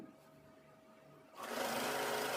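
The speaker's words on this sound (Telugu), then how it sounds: "ఇలా స్లోగా లెఫ్ట్ హ్యాండ్ సైడ్ క్లాత్ని మూవ్ చేస్తూ స్టిచ్ చేసుకోవాలి." A sewing machine stitches a fall onto a sari, starting up after a quiet moment and then running as a steady, close, even mechanical whir to the end.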